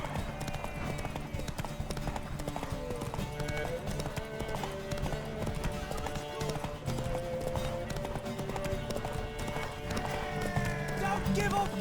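Rapid rhythmic hoofbeats of a galloping horse with an occasional whinny, over busy background noise and voices calling out, in the video game The Witcher 3: Wild Hunt.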